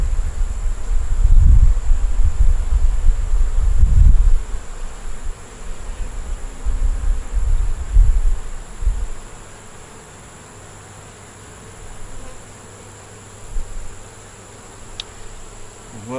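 Honey bees buzz at a hive, loud and close in swelling bursts for the first half, then settling into a quieter, steady hum.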